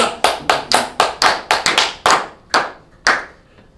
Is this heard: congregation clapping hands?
yes